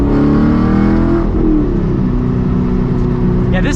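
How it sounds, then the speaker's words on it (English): Modified Chevy Camaro SS muscle car exhaust roars loudly under acceleration, a deep sustained rumble that shifts pitch as it pulls hard, close to the microphone. "Man, this is what a muscle car should sound like."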